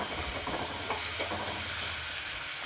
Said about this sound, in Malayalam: സബോള നന്നായി മിക്സ് ചെയ്ത് കൊടുക്കാം